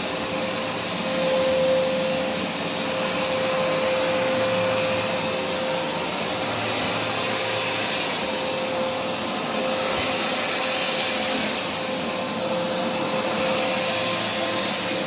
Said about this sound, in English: That air whooshing noise you hear is the exhaust vent of the motor that helps